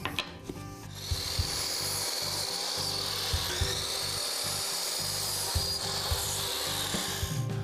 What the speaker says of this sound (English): cut about 1 inch off of each one of these legs on the frame